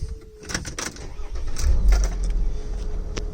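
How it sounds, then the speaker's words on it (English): A Mercedes G-Wagon engine cranks and catches, then settles into a steady low idle rumble, close and fairly loud, with a few clicks at the start. "So we'll start the car."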